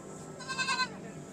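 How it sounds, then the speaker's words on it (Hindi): A goat bleats once aboard the Sikkim Mahananda Express train, a short wavering nasal cry heard at moderate distance over steady carriage rumble. "बकरी है, खस्सी,"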